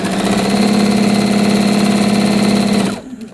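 A sewing machine runs steadily while stitching a quilt seam for a patchwork beginner quilt, a continuous close mechanical hum and rapid needle chatter that cuts off near the end, with no talk.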